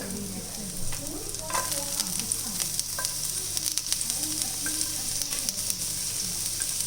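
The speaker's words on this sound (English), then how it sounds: "Now add chopped ginger and garlic." Chopped ginger and garlic sautéing in hot oil in a home kitchen, a continuous bright sizzle with scattered crackles and pops, close by and steady, with no voices.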